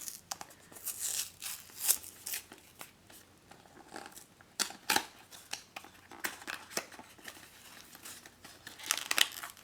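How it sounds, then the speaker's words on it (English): A strongly glued Pucky Forest Fairies trading card package is torn open, giving quiet, intermittent crinkling and ripping with short sharp tears scattered throughout. "This one is glued so much stronger than the last one. I feel like I'm going to shred this package."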